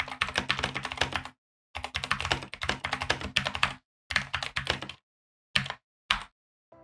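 Bursts of typing on a Keychron K8 wireless mechanical keyboard with tactile switches, rapid close-up clacks in several runs separated by short pauses, ending with a few isolated keystrokes.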